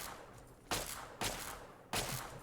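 Three loud, sharp gunshots from an NPC in Fallout 3, irregularly spaced and each trailing into a brief noisy decay over low background ambience, with no talking.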